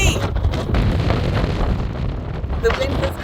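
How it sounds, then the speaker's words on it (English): Strong wind buffets the microphone on the open Bonneville Salt Flats, a continuous low roaring rumble with gusty swells throughout. "It's very windy."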